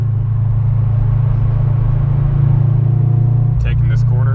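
A car drives on wet roads in near-freezing 32-degree weather in Ohio, with a loud steady engine and road rumble from inside the cabin. A brief voice cuts in near the end.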